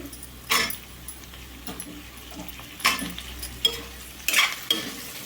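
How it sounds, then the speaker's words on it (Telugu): Cut drumstick pieces frying in hot oil for a dal, heard as a low sizzle broken by several loud scraping bursts of stirring against the pan, close and without speech. "ఇవి కూడా ఆయిల్లో ఒక్క నిమిషం పాటు అయితే వేగనివ్వాలండి"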